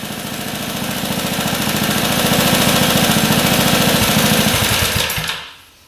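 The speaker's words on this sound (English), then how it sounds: "No knocking in the engine. Sounds really good." An old, rare motorcycle engine runs at a steady, rapid idle after a restart, loud and close with a fast even chuffing, then is cut off near the end and dies away into quiet.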